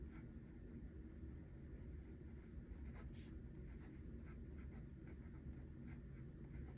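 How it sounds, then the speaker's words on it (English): A Kaweco Sketch Up 5.6 mechanical pencil writes on paper, giving a faint, continuous scratchy stroking with small irregular scrapes, heard alone at low volume. "Let's just try a little bit of writing."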